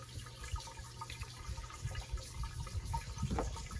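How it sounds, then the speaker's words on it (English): Water trickling and draining through a hose connection on a Sea-Doo Speedster jet boat, a steady low gurgling wash with small splashes, fairly close and moderately loud, with no talking. "So you can hear water draining through here."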